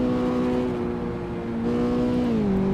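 A racing car's engine screams at a steady high pitch near the rev limiter while lapping the Nürburgring in a racing video game, the note holding flat and then dropping slightly as it shifts, continuous and close.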